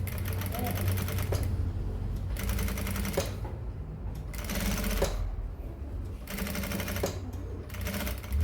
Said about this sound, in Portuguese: Vou passar uma costura bem na beirinha aqui.